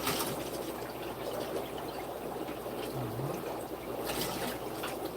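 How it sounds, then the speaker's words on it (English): Distilled water is poured out of a container while cleaning for a Milwaukee MW803 pH meter calibration, giving a faint, steady trickle for a few seconds with no talking. "that's the distilled water I poured out"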